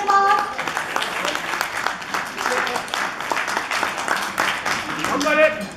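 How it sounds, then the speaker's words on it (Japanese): Crowd applauds ahead of a band's performance at a Nagasaki venue, a sustained roomful of clapping throughout with a few voices mixed in and brief musical tones at the start and end. "どうぞ皆様拍手をお願いいたします"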